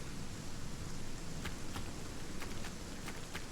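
Steady rainfall in the survival game Aska, an even, continuous hiss with a few faint soft ticks scattered through it and no talking.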